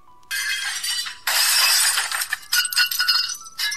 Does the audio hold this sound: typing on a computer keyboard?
no